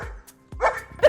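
A person imitates a dog barking with a few short, sharp woofs spaced apart by brief pauses, close to the listener.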